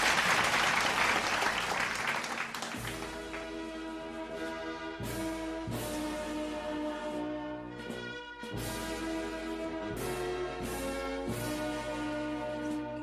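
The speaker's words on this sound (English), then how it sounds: "please send them a warm round of applause" A closing-session audience at the 2021 Asia Pacific Leadership Conference claps in a brief, dense burst that gives way after a couple of seconds to steady music with sustained tones.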